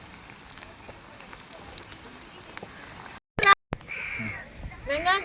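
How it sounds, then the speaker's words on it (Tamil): Mustard seeds pop and splutter in hot oil in a home kitchen, with a soft steady sizzle, a sharp burst of crackling partway through, then more frying noise. "எண்ணெய் காஞ்சிட்டு கடுகு போட்டுக்கலாம். சரியா, கடுகு பொரிஞ்சிருக்கு."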